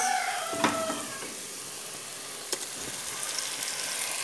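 Crushed tomatoes hitting a hot pan in a home kitchen, giving a steady broadband sizzle with a couple of sharp spits and crackles as they land, close and moderately loud.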